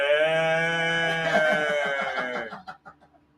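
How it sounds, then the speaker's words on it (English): A goat bleats in one long, loud, wavering cry that holds steady and then breaks into shaky, stuttering pulses as it fades out. "Sounded like a retarded goat."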